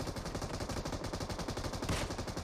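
Rapid automatic gunfire from PUBG Mobile, a mobile shooter game, rattles in a fast, even burst that runs loud and continuous for the whole short stretch.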